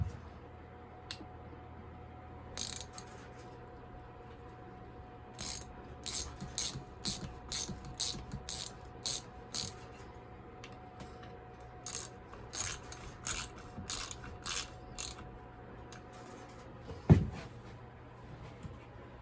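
A ratchet clicks in quick, steady runs as bolts are tightened on a McCulloch SP105 chainsaw, close and distinct over a quiet background, ending with one sharper metallic clank.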